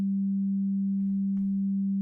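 One sustained, pure electronic tone played through a mixer holds steady and even throughout, with a faint click or rustle partway through.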